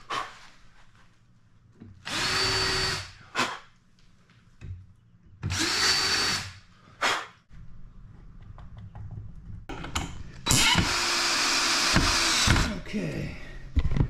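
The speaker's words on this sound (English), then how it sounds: "And I'm countersinking each of these." A power drill countersinks screw holes in wood in three separate bursts of whining, rising motor noise. Each burst lasts one to two seconds, with quiet handling sounds between them and the last burst longest.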